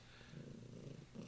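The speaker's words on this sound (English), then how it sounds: "got a purring cat with me, so you might be able to hear him from time to time purring." A cat purrs softly and steadily up close, a low continuous rumble with no other sounds.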